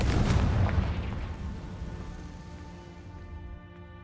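A Confringo blasting-curse explosion in a Harry Potter video game: one loud, close blast at the start rumbles and rings out, fading slowly over several seconds.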